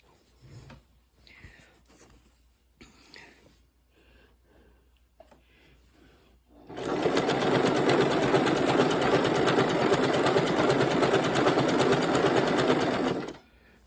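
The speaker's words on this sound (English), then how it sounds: "Now we're sewing this together." A sewing machine stitching pieces of a jelly roll quilt runs in one loud, steady, rapid mechanical whir for about seven seconds, after several faint clicks and handling sounds, then stops.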